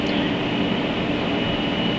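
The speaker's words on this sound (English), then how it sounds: "because you can hear my computer fans right now." Steady broadband hum of computer fans, constant and unchanging, with no voice.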